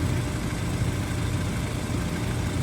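A Honda S2000 engine idles with a low, steady hum at constant volume, close by, with no voices.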